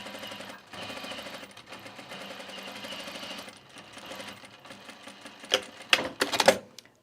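A Juki TL sewing machine runs in quick stitching bursts, a rapid mechanical chatter that starts and stops, ending in a few louder clacks and knocks as the fabric is handled.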